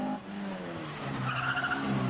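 A Ford Escort rally car on a Jersey Rally stage in 1997 sweeps past with its tyres scrabbling and skidding on the surface. A sustained engine note rises underneath, close and fairly loud.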